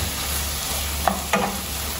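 Onion and chili fry in a pan with a steady, close sizzle and a couple of brief stirring scrapes, with no voices over it.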